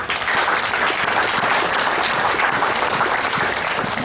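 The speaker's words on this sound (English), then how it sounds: "you can give yourselves a big clap for that" A crowd at the 2016 Tassell Trophy presentation claps in sustained, dense applause that stays loud and even from start to finish, with no talk over it.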